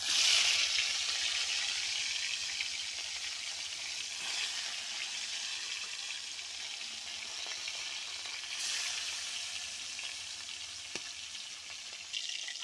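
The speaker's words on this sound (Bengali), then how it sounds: "তেলটা ভালোভাবে গরম হয়ে গেলে এর মধ্যে আমি ম্যারিনেট করা মাছগুলো" Marinated fish frying in hot mustard oil, producing a dense, bright, continuous sizzle that stays steady and close throughout with only slight swells, without any voices.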